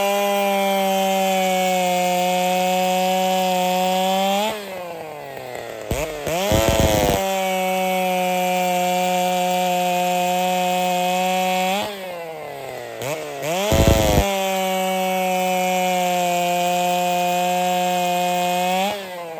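Race chainsaw fitted with a freshly sharpened regular chain, revving to a loud, steady high-pitched whine as it bites through wood, dropping briefly twice to idle sputters between two long cuts.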